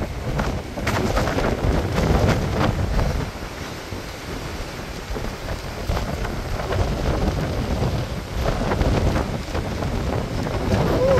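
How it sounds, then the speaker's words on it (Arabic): Strong wind buffets the microphone in heavy, roaring gusts that rise and fall throughout. "الريح"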